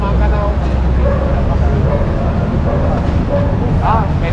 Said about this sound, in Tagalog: may aso. Kukuha ko, kayo gumagalaw.